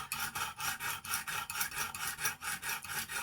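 A Stedemon A01A knife with CTS 204P steel is drawn across a coarse purple Lansky sharpening stone at 20 degrees, giving repeated even rasping strokes, about three per second, close and steady with no voices.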